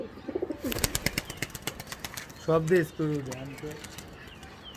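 Soft cooing of ring-eyed pigeons close by, a couple of low throaty calls after a burst of fluttering and clicks, with a person speaking briefly.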